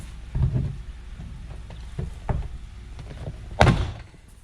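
Plastic clips popping loose from a 2014 Prius V front door panel as it is pried off: a few sharp thunks, with a louder pop near the end, alone.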